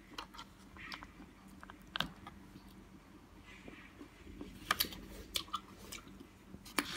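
Crunchy green seedless grapes being chewed up close, with sharp crisp bites among steady soft mastication and several louder crunches toward the end, no talking.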